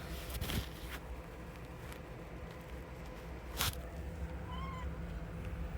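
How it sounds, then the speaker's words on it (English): A faint, brief cat meow rises late over a steady background hum of PC fans, with a couple of soft rustling clicks earlier. "And that was a cute Paisley meow."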